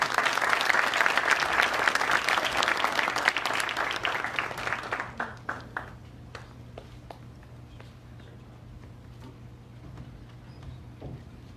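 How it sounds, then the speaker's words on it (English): A crowd at a ceremony honouring police gives loud, dense applause that thins into scattered claps and fades to quiet room tone after about six seconds. "a round of applause for what you did"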